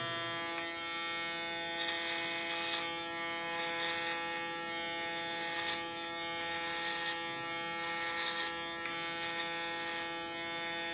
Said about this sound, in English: This is the shortest I have, and then only the blades of the clipper can make the difference.